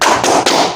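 Clapping for a classroom cheer in a seventh-grade junior high class, a couple of quick broadband slaps with a brief gap between them, close and fairly loud with no talking.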